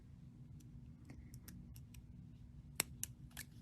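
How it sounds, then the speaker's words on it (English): Several quiet, crisp snips and clicks of small scissors cutting a bead strand, spaced irregularly, with a few sharper snips toward the end. "I am going to need my scissors again to cut this bead strand."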